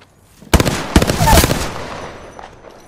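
Automatic weapon fire in the video game Apex Legends bursts out in rapid, loud volleys, a sharp opening crack followed by a dense rattle of shots that fades into a trailing echo.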